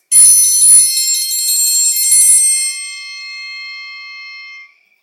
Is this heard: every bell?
yes